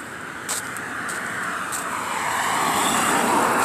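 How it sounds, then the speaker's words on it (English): Cars passing along a street in Houston on a daytime walk, a broad steady roadway rush that swells gradually louder, heard alone from fairly close by. "Cars are passing by here."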